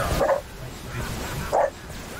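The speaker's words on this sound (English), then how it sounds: "Sorry about the dogs." Dogs barking indoors during a podcast recording, two short, fairly loud barks about a second apart over a low background hum.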